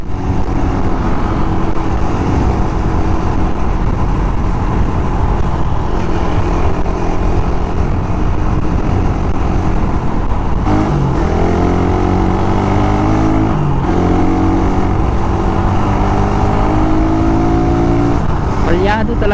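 A Suzuki Raider 150 motorcycle engine idles and revs loudly up close, running rough with a misfire. Pitch rises and falls through several throttle blips, and voices talk over it.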